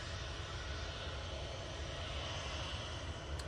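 A Ryanair jet taxiing at Manchester Airport, its engines giving a steady, moderately distant broadband roar that holds at an even level throughout.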